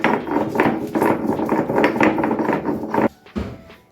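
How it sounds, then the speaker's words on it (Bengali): Chillies are crushed on a stone grinding slab, heard as close, dense, rhythmic grinding and thumping strokes of stone on stone. The strokes run steadily for about three seconds, then stop, followed by one last knock. "এবারে লঙ্কাগুলোকেও বেটে নেব।"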